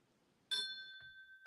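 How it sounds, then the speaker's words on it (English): A single small bell struck once, ringing with a clear sustained tone that slowly fades, followed by a soft second touch near the end in an otherwise quiet room. "I had to ring a bell on that."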